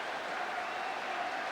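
Queens Park Rangers' home crowd applauds its team in injury time of a 7-0 football match against Burnley, a steady, even wash of distant clapping from the stands.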